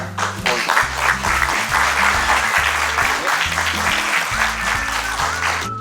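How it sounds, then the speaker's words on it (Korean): An audience at a Korean talk concert claps to welcome four singers, a full, continuous round of applause over a thumping, rhythmic music track beneath it. "네 분을 박수로 맞으시면 좋겠습니다."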